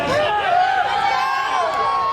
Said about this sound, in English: third and final match, and the crowd's going wild